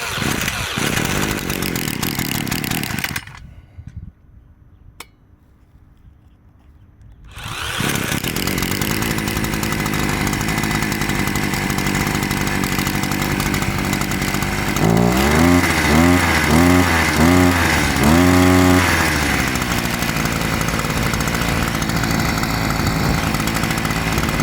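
Parkside PPBS 3 A1 petrol brush cutter, primer pumped and choke closed, fires on the push-button start and runs loud and close, falling quiet briefly, then revving with a rising, pulsing two-stroke buzz.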